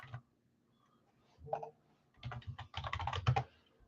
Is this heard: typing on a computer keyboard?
yes